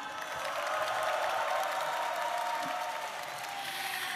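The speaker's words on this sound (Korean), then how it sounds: "마지막까지 최선을 다해 경기에 임한 양교 선수단에게 뜨거운 박수와 격려 부탁드리겠습니다" Audience applause at the close of the 22nd KAIST-POSTECH student festival science quiz contest, a steady, even wash of clapping from a crowd that holds at constant level for several seconds with no talk on top.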